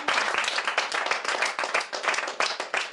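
A church congregation claps together for the Lord, a dense steady wash of many hands applauding loudly and without pause throughout.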